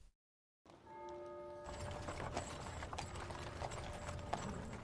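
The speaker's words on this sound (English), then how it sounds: "a horse-drawn wagon pulls up outside the offices of J.P. Morgan Bank at 23 Wall Street" Horse-drawn wagon in 1920s New York City's Wall Street financial district, hooves clip-clopping steadily on the street amid a busy, noisy street ambience after a brief silent start, with a tonal hum running underneath.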